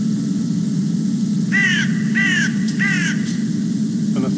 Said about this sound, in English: it makes it easier to hear that carrion crow call is dropping